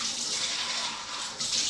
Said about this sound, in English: So you can hear the water running in the background.